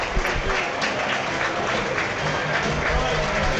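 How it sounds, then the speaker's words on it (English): A football crowd at Eastleigh applauds the man of the match after an Eastleigh v Boreham Wood game, a dense steady roar of clapping and cheering heard from the stands, with a voice talking faintly underneath. "We'll let him soak up the applause"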